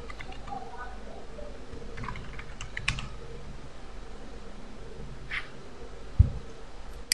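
Fingers typing a full name on a computer keyboard while filling in an online gig form, soft, uneven clicks at moderate distance, with a voice speaking over them and one louder thump near the end.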